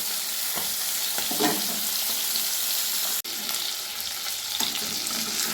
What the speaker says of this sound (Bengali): এবারে বাকি মাছগুলো আমি ভেজে নিচ্ছি